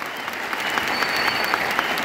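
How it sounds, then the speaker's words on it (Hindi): Crowd at a corporate awards function in Delhi bursts into loud, close applause for the management, a thick continuous patter of many hands with occasional sharper claps, with no speech over it. "एक बार जोरदार तालियां वेस्टीज मैनेजमेंट के लिए।"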